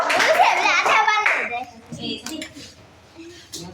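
Schoolchildren clap their hands in a classroom, a short burst of dense clapping under children's voices that fades into scattered movement and chatter.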